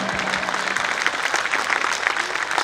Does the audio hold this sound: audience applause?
yes